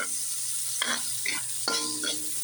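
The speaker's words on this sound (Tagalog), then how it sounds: "Ayan din ang igigisa ko sa kanyang ingredients." Adobo ingredients sauté in adobo oil, a steady sizzle broken by a few scraping stirs of the pan, close and alone without speech.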